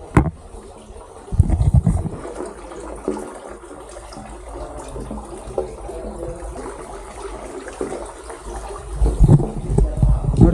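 Water pours steadily into a pool inside a temple cave, a soft continuous trickle and splash that sounds close and echoes in the rock, with brief louder bursts as people talk nearby.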